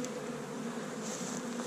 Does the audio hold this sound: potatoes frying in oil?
no